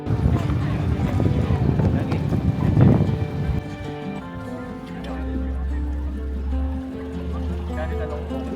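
A sightseeing boat cruises on Lake Kawaguchi with wind buffeting the microphone and a steady low engine hum, voices and louder rumbling early, then a calmer drone with tonal hum.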